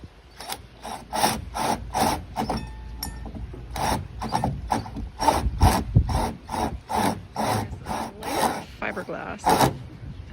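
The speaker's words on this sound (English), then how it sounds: "cutting a huge hole in our boat" A saw rasps back and forth in steady, rhythmic strokes, close and loud, cutting a hole through a boat's fiberglass and wood layers with short pauses between passes.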